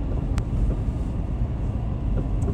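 Steady wind buffeting a microphone at Bethany Reservoir, a constant low rumbling roar that fills the whole span without letup.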